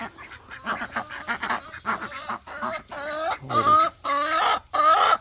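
Chickens and ducks cluck, quack and honk in a busy, overlapping chorus close by, the calls growing louder and more insistent toward the end, with no talk over them.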